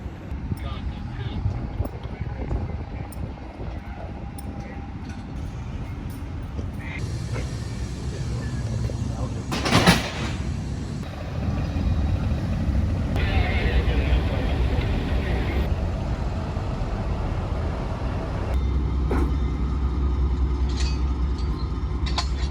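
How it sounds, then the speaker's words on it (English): Amtrak Empire Builder cars roll slowly backward to couple with the Seattle section, a continuous low rumble and rail drone with a sharp metallic clank near the middle, people talking throughout. "they're backing in the Seattle piece of the train and we'll have one long train"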